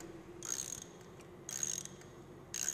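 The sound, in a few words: socket wrench loosening aircraft engine spark plug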